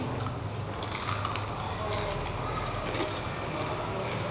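Crispy fried enoki mushrooms being bitten and chewed up close, giving a continuous dense crunching and crackling texture with no pauses.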